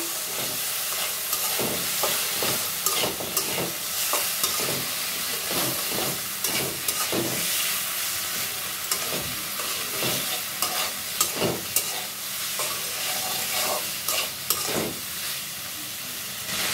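Taro pieces sautéing in a pan for a rohu fish curry, giving a steady sizzle and frying hiss with frequent clicks of a spatula stirring, close and moderately loud, no talk.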